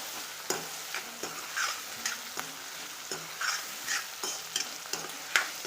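Noodle masala with chili powder, turmeric and salt sautéing in a pan, a quiet sizzle with a steady rhythm of spoon scrapes and stirs against the pan, about two each second, with no voices.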